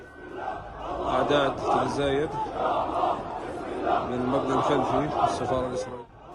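A protest crowd outside the Israeli embassy in Jordan chants and shouts together in loud, rhythmic bursts, close and sustained throughout, then drops off at the very end.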